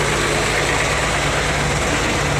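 A bus engine idling, a steady low rumbling drone with a constant throb, loud and close, continuing unchanged throughout with no voices.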